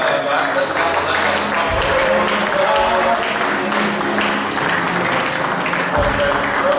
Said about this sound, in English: We can clap better than that. Let's clap for them.